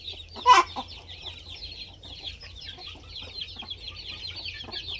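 Chickens in a pen give a brief sharp squawk, then soft scattered clucks at moderate distance over a steady low background hum.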